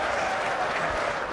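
A snooker audience applauds, a dense, steady wash of clapping from a large crowd filling the whole moment.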